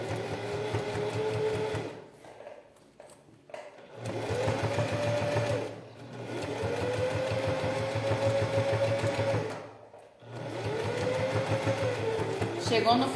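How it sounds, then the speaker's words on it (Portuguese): A sewing machine stitching a zipper onto fabric runs in three long, steady whirring bursts separated by brief stops, close and prominent, with a voice talking over it. "Vai com calma, não fica prendendo o seu tecido na máquina, senão seu ponto fica feio."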